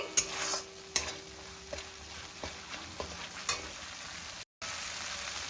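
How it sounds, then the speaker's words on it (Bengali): Gobindobhog rice is stirred in a frying pan: a low frying hiss with a string of distinct spoon clinks and scrapes against the metal, close and quiet, with no talk and a brief dropout near the end. "এবার এই চালটা দিয়েও আমি একটু নেড়ে নিচ্ছি"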